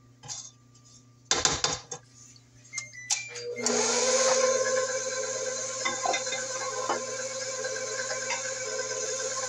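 A stand mixer beats cake batter with eggs for a chocolate cake: a few clinks and knocks against the bowl, then the motor starts up and keeps up a steady, loud whir through the rest of the clip.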